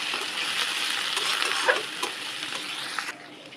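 Green chilies and chopped shrimp are stirred in a hot pan, a soft continuous sizzle broken by a few spoon scrapes and clinks, close and unaccompanied by voices.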